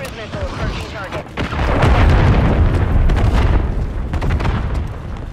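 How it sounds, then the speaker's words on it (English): A loud cruise missile blast in the video game Modern Warfare III: a deep rumbling boom swells about a third of the way in and rolls on heavily to the end over a dense background of battle noise. "Friendly cruise missile approaching target."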